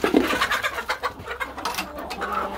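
Chickens and a rooster cluck and coo close by inside a barn, a busy overlapping chorus of short calls with no talk.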